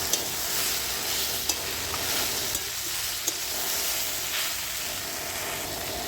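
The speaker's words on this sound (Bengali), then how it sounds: "আমি দিয়ে দিচ্ছি হলুদ। ভালো করে আমি কষিয়ে নেব।" Vegetables sizzle and fry in a pan with salt and turmeric while being stirred, a steady close hiss with a few small clinks of the spoon against the pan.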